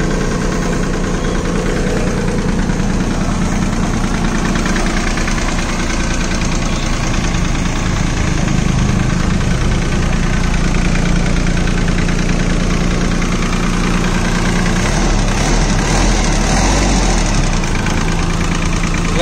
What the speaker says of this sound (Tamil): இந்த இன்ஜினை வந்து ஸ்டார்ட் பண்ணுறாங்க. சவுண்ட் எப்படி இருக்குதுன்னு பாருங்கள்.